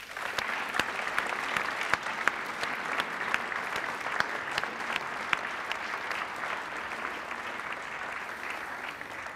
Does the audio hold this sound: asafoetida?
no